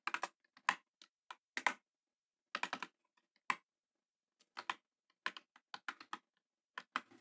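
Python code is typed on a computer keyboard in scattered bursts of crisp, close key clicks, with short pauses between clusters of keystrokes.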